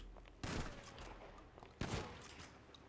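Two sharp, close gunshots from a firearm in Grand Theft Auto V roleplay, about 1.4 seconds apart, each followed by a short decaying echo over quiet background.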